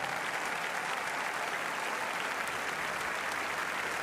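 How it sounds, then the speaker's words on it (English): Spectators at the CHIO Aachen Rolex Grand Prix show jumping applaud steadily after a top round, a dense, continuous clapping from a large crowd held at an even level throughout with no talk. "Otto Becker applauding a top performance"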